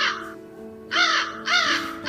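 A crow perched in a hemlock tree gives three harsh caws, close and clear, with short pauses between them over faint background hum.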